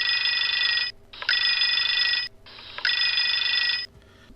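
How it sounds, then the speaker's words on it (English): Desk telephone ringing in three long electronic bursts separated by short pauses, loud and clear with no talk. "the two men were waiting while their desk phone rang"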